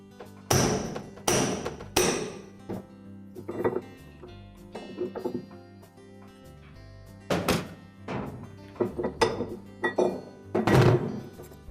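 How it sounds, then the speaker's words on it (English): Spanner wrench with three pins set into the bolt holes of a Maytag washer's center hub, loosening it during a tub seal repair: a run of close metallic clanks and thunks, some sharp and loud, spaced irregularly with quieter gaps. "next we're going to remove this center hub using our spanner wrench"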